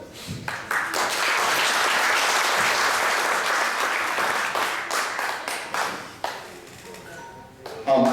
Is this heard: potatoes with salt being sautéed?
no